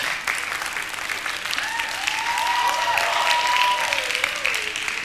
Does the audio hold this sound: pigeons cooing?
no